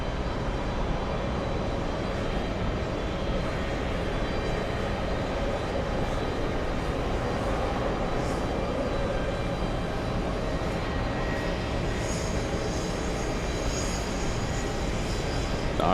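An Air Serbia airliner in Expo 2027 livery arrives at JFK, its jet engines making a loud, continuous broadband roar that holds steady throughout with no voices.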